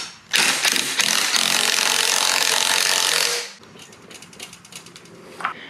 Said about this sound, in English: Now I just gotta remove the turbo.